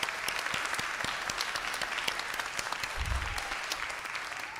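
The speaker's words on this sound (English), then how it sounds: "I'd like to give our panel a round of applause for doing a great job" Audience applause for a panel at a community health event with a congresswoman, steady dense clapping filling the room with no voices over it.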